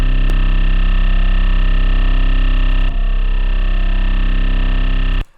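An 808 bass patch in the Serum synth with LFO modulation assigned plays as one long, loud, distorted tone. It holds steady, with a short click near the start and a small dip in the middle, and no one talks over it.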